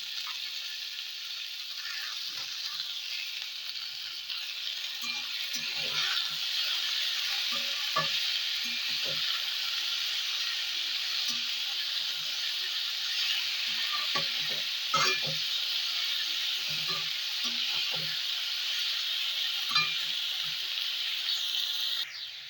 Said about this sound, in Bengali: এর মধ্যে দিয়ে দিচ্ছি বাঁধাকপি